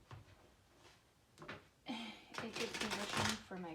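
Tarot cards being shuffled by hand in short riffling bursts, close and moderately loud, with a person talking over parts of it.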